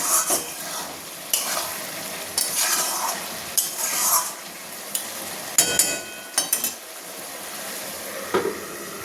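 Dumur (figs) are stir-fried in a pan, with a soft sizzle under repeated scraping strokes of a spatula against the metal, coming in irregular bursts.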